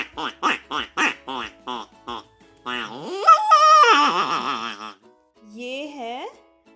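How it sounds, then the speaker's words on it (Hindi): A duck quacks in a rapid series of short, sharp calls, close and loud, followed by a person speaking. "ये है डक। डक मीन्स बत्तख।"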